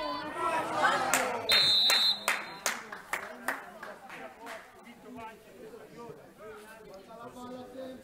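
Scattered hands clapping at a youth football match against Juventus, a handful of sharp claps that thin out into isolated ones, with shouting coaches and players in between and a brief whistle-like tone early on.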